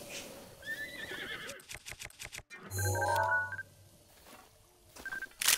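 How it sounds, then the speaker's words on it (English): Horses in the video game Zelda: Breath of the Wild whinny and neigh, mixed with clip-clop hoof sounds, electronic game tones and beeps, with no one talking over it. "More horses."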